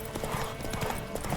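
Quick, rhythmic clip-clop of a galloping horse's hooves in the game The Witcher 3: Wild Hunt, steady and close over a busy game soundscape.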